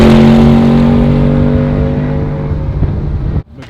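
A C8 Corvette's performance exhaust revs loudly and steadily with a deep, rasping drone that holds, then cuts off abruptly near the end.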